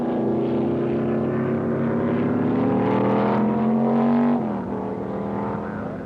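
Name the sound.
Can-Am race cars racing at 1968 Stardust Grand Prix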